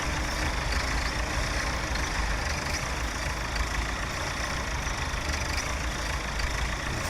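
Sugar beet harvester engine in Farming Simulator 17, a continuous rumbling diesel drone with a broad noisy hum that holds steady throughout, no talk.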